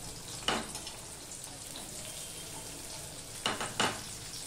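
Onion and garlic hit hot oil with black cumin for a Bengali pabda fish curry, making a steady close sizzle with louder crackling bursts as they go in and are stirred.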